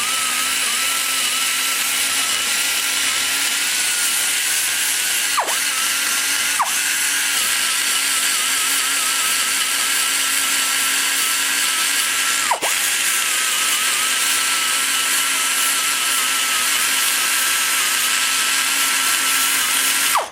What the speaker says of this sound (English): Taking the first level of cast iron off, coming all the way back and flattening the casting line